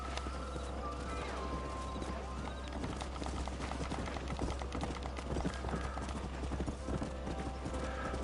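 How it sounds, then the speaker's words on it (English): Horses gallop in Red Dead Redemption, with steady clip-clop hoofbeats from several animals over a continuous busy game soundscape and an occasional whinny. "Stay with the horses."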